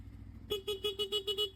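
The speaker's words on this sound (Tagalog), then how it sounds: "stock horn" The stock horn of a CF Moto 450 motorcycle sounds in a rapid series of six short beeps after a moment of quiet, close and fairly loud.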